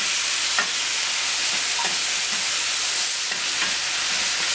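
Tomatoes, aubergines and chickpeas sizzle on a hot plancha, a steady close crackling fry with faint spatters and no talking.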